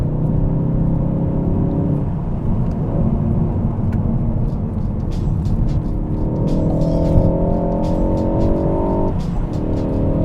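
Ford Focus ST engine accelerating hard from inside the car, a loud continuous drone rising in pitch through two gear pulls with a brief shift dip between, no talking over it.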